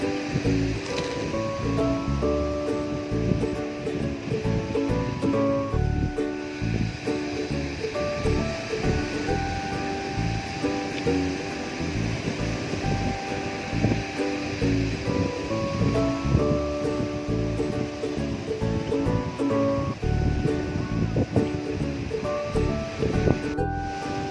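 Strong wind roars steadily outdoors at a Minangkabau food meal, a dense continuous rush with no pauses, overlaid by tonal hum and clatter throughout.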